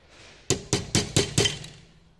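A small metal punch hammered against a rivet held in a vise while repairing a Winkhaus Cobra centre gearbox door lock: five sharp, evenly spaced metallic strikes ring out close and loud, each decaying briefly before the next.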